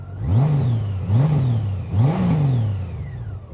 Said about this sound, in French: ce 6 cylindres, ce glou de moteur, c'est quand même extraordinaire